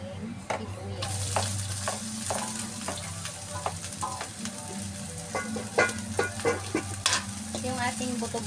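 Onions sizzling in a pan for a pork rib menudo, with a steady frying hiss broken by repeated scrapes and clinks of stirring, fairly close and moderately loud.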